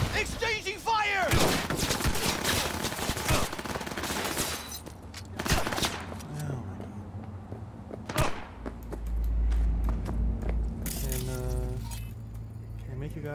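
Gunfire in the Cyberpunk video game, with dense bursts of shots and clatter mixed with other game effects and mechanical noise across the clip, under a voice speaking.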